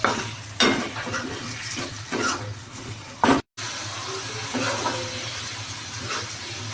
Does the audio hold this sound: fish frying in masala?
yes